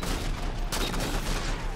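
Rapid gunfire in the video game Halo 4, a dense continuous burst of loud shots with a sharper crack partway through, filling the whole stretch without talk.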